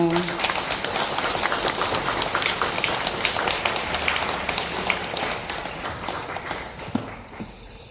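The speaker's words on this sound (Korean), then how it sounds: "큰 박수로 모시겠습니다" Audience in a Catholic church hall applauds to welcome a priest before a Lenten lecture, dense continuous clapping that gradually thins out toward the end, with some voices underneath.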